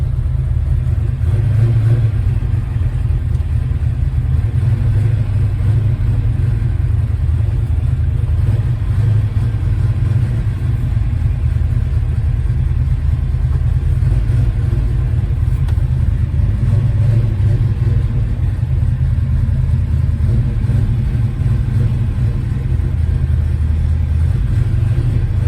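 A car engine rumbles steadily and close by as the vehicle pulls into a garage, a low constant drone with no talking over it.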